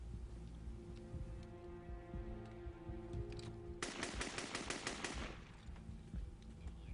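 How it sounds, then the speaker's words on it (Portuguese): A rapid burst of automatic gunfire as a hijacker shoots at everything around him aboard an airliner, a dense rattling string of shots lasting about a second and a half after a tense droning hum, fairly close. "ele começa a atirar em tudo à sua volta"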